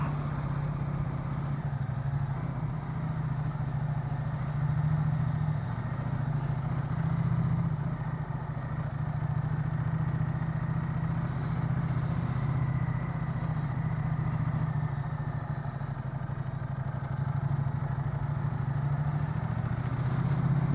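A Ducati Diavel motorcycle rolls along at walking pace, its engine holding a steady low idling rumble that stays close and even for the whole stretch with no voices.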